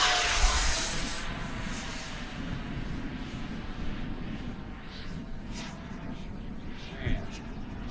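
RC model MiG-29 jet flying overhead in gusty 20 mph wind, its steady turbine whoosh and roar passing loud then easing, with someone talking over it.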